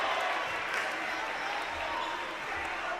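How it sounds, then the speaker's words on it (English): Crowd at a boys varsity high school basketball game between Gunn and Palo Alto, cheering and clapping loudly in a gym, with an announcer talking over the steady roar. "And the crowd is going crazy for Jameer Shepherd."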